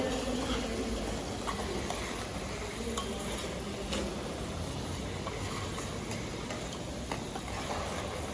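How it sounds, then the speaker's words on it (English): Chicken deep frying in a pan of hot oil gives off a steady, even sizzle and crackle with occasional faint ticks and clinks, continuous and fairly quiet with no talking. "While you're frying your chicken, check your rice"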